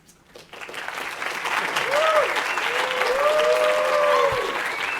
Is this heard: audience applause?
yes